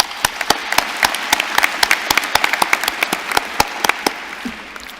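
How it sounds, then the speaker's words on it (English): Commencement audience applauding, a thinning spread of distinct individual claps with a steady wash of clapping beneath, tapering off toward the end. "Please give yourselves an applause."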